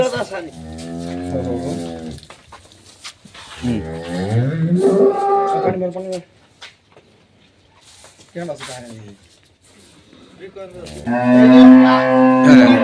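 Dairy cows moo several times in long, deep calls, close and loud, with pauses between them.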